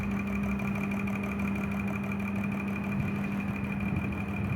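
A 2014 Honda Vezel hybrid engine running steadily during a shifting speed test, a close, even mid-pitched hum with a constant tonal whine and no speech.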